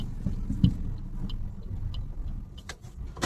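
A car pulls away in first gear along a narrow neighbourhood lane: a low, soft engine rumble with a faint ticking indicator and a brief thump near the start.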